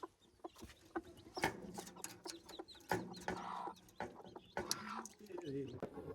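A hen clucking with her chicks in a village yard, soft clucks and light peeping calls in scattered bursts, fairly faint, with some brief voices and handling noises around them.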